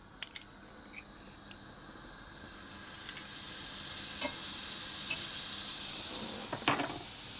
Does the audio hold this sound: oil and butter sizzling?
yes